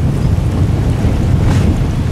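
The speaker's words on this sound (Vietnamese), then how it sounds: "Sóng nó nhảy gì đùng đùng nè." Waves slapping and churning on a wide canal in the Mekong region, a steady loud broadband wash with heavy wind buffeting across the microphone and no voices.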